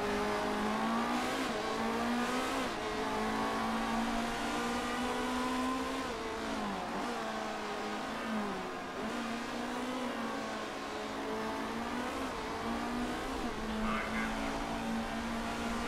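Race car engines in the Motorsport Manager racing game drone continuously at high pitch, over-revving and wavering in tone as the cars fight through the laps, loud and steady throughout with no talk.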